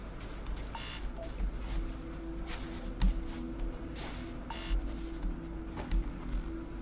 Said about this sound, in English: that beep sound, having it play when there are nothing that matters there